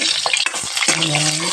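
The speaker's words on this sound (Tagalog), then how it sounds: "Prito muna natin ang ating patatas." Potato pieces sizzle in hot oil in a pan, a close, bright crackling hiss with a brief stirring clatter; one short word is spoken.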